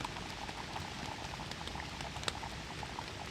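Heavy rain falling in woods under a tree canopy, a dense steady patter of drops striking leaves and a tent or gear nearby, with a few sharper close hits and no talking.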